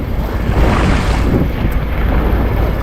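Strong southwest monsoon wind roars steadily across the open Pacific Ocean, buffeting the microphone with a constant low rumble and hiss, no voices present.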